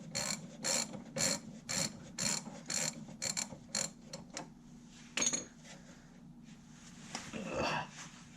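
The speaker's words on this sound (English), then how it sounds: "I've got the bolt broke loose. Now she's just going to unscrew just like that right there." A loosened bolt on a vehicle draglink is backed out with a ratcheting wrench, giving a close, rhythmic string of metallic ratchet clicks in bursts that slow and then stop, with a few clanks near the end.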